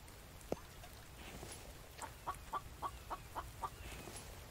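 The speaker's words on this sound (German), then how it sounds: "Ich sag's dir, das Huhn lacht uns aus." A chicken clucking in a short rhythmic run of about six clucks, moderately near, after a single sharp knock, over a faint background hum.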